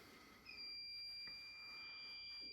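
A fire alarm starts after a faint click as a pull station is pulled, holding a shrill, steady electronic tone that continues unbroken to the end.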